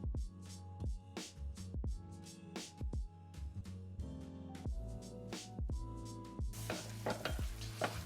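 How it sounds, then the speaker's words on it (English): Mushroom risotto rice being stirred with stock in a pan, a steady scraping stir under a soft sizzle, with repeated spoon knocks against the pan, close and continuous. "Give it a nice stir and continue stirring it."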